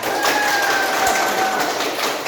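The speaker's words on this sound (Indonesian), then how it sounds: "tepuk tangan buat kita semuanya" A class of seventh-grade students applauding together, steady dense clapping throughout with a faint tonal whine running underneath.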